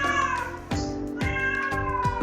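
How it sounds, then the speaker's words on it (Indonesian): A house cat meows repeatedly at close range, three or four drawn-out, wavering calls one after another with no talking over them. "kucing saya meow-meow."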